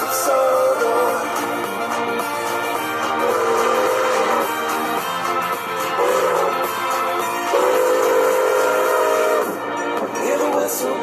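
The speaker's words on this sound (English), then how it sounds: "Hear the whistle blow, see the wheels slide, feel the coaches rumble as we go on our trip." A steam train runs with a constant loud rumble and clatter, its whistle sounding in several drawn-out blasts spread across the stretch.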